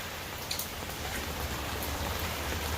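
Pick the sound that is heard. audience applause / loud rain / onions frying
loud rain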